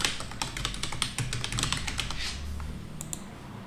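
A computer keyboard clatters with quick, irregular keystrokes as a domain name is typed, close and fairly quiet, with a short pause before a final couple of taps.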